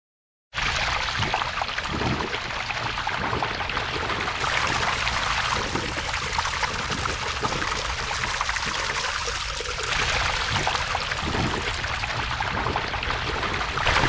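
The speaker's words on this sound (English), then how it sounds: "This is pulling all of the water from this area directly into the pipe." Floodwater from a totally flooded backyard in Tampa, Florida, swirls in a vortex down a $15 catch basin into a drain pipe, giving a loud, constant rushing pour that runs unbroken for the whole stretch.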